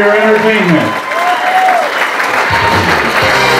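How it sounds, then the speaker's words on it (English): Crowd applause at a comedy club hypnotist show, loud and steady, with a voice talking over the clapping. "Let's a nice round of applause"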